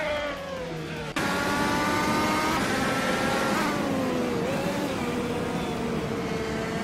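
Honda IndyCar engine screaming in a racing game, a sustained high-pitched whine with rising and shifting tones as revs climb, loud and continuous after a brief quieter start.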